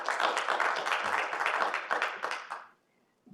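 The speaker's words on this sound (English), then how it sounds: "if you keep clapping, I'll get in trouble" Audience applause at a town council committee meeting, a dense burst of many hands clapping for about two and a half seconds before cutting off into near silence.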